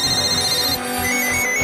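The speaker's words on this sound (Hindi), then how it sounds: "प्रधानमंत्री के दफ्तर के फोन लगातार घनघना रहे हैं।" A telephone in the prime minister's office rings with a bright, loud electronic trill that sounds continuously for the short span, with no voices.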